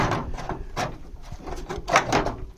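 A metal part being worked into a door on a VW Type 2 under restoration, heard as a series of close clunks, scrapes and knocks in an uneven rhythm.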